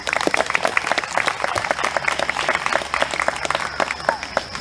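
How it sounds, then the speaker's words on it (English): Crowd applause at an outdoor Independence Day ceremony marking George Washington's march to the tomb, a steady patter of many hands clapping at moderate distance, with some voices mixed in. "You may now applaud."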